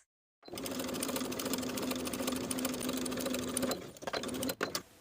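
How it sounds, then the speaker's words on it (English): A sewing machine topstitches the curved edge of a denim jeans pocket about an eighth of an inch in, running in one steady whir for about three seconds before stopping, followed by a few short bursts and clicks. "Top stitch that curved edge with about an 1/8 inch seam allowance"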